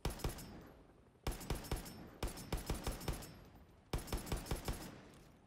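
Bursts of automatic gunfire from weapons in the video game Far Cry 6 come in four rapid volleys of sharp, loud shots separated by short pauses.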